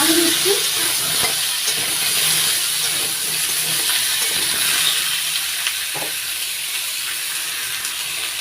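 Potatoes fry with turmeric and salt in a pan, giving a steady close sizzle and hiss with faint stirring scrapes throughout.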